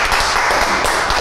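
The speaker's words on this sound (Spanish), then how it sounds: "Los poquitos que estamos acá, aplaudámosle a la compañera que estuvo esta noche con nosotros." A small audience applauding an interview guest at the end of a live talk show, steady dense clapping that carries through loud and close from start to finish.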